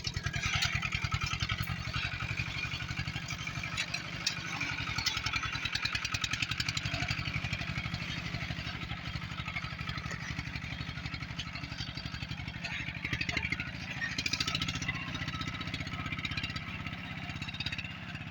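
ATV quad bike with new tyres rolling downhill over a spread of manure, its engine droning steadily and close throughout with a rough, clattering mechanical buzz.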